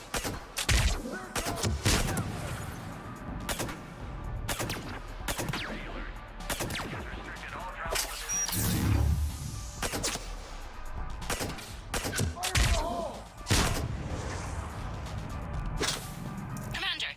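Rapid bursts of gunfire and loud impact cracks from Mass Effect 3 combat run throughout, dense and close, with shouted voices mixed in.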